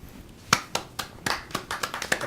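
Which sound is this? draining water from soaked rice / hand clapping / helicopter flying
hand clapping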